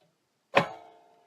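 A handmade soap loaf is sliced by a cutter, ending in a single sharp knock as the blade goes through, followed by a short fading ring, with silence around it.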